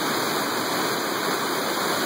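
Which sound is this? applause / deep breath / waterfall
waterfall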